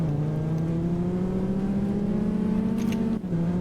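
A Dodge Viper on race tires launches hard in a racing video game, its engine note droning steadily and rising in pitch as it pulls, with a brief dip near the end like a gear change.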